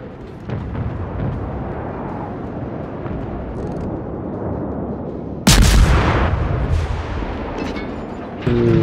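Rumbling naval combat in a warship video game: continuous low booming of battleship guns, then a sudden loud blast with a crackling decay, and another heavy report at the end.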